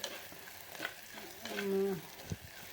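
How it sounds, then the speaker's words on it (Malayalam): Chopped coconut, ginger and green chilli frying in a pan after mustard seeds have popped, a steady close sizzle with stirring scrapes and a couple of sharper clinks, no talking. "അരിഞ്ഞു വെച്ചിരുന്ന തേങ്ങ കൊത്തിട്ടു അതിന് ശേഷം ഇഞ്ചിയും പച്ചമുളകും ഇട്ടു"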